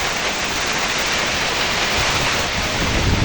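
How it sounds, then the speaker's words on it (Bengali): Rain pours steadily over a village mango orchard of small trees, a dense, even, loud hiss with no break and no voices. "আর এখন তো বৃষ্টি পড়তেছে।"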